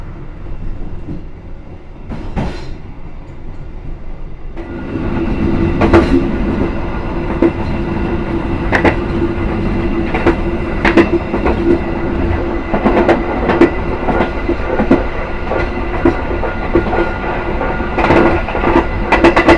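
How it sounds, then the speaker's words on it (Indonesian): The Sawunggalih passenger train runs on the rails toward Cirebon, a loud steady rumble with rhythmic wheel clicks over the joints and a faint squeal, building from quieter travel into a full clatter. "Sebentar lagi kereta api Sawung Galih akan tiba di Cirebon"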